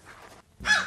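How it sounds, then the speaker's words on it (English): A crow gives a single harsh caw near the end, after a short pause, over faint outdoor background noise. "These are the crows."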